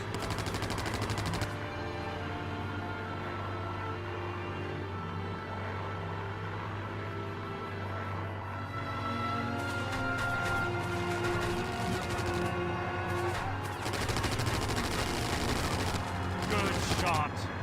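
Aircraft machine guns in the video game Wings of War fire as rapid rattling bursts over a constant engine drone, heaviest in the later part.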